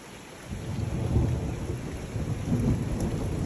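Thunder from a mountain thunderstorm rolls as a low, rumbling swell over steady rain hissing on surfaces, with no voices.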